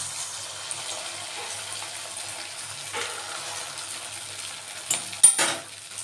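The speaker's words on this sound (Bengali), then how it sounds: "তেলটা গরম হয়েছে এখন আমি একে একে এগুলোকে ভেজে নেব" Semolina and milk powder sweets frying in hot oil and ghee give a steady, even hiss throughout, with a few brief clinks of a utensil near the end.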